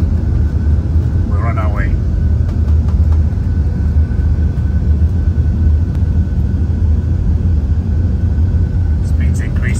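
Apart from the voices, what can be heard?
Boeing 747-8 jet engines spooling up to takeoff thrust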